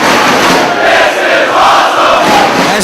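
Loud, sustained roar of a wrestling crowd at a Ring of Honor event, rallying and cheering Jack Evans, with rising and falling waves of shouting and no clear speech over it.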